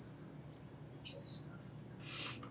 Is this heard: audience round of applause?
no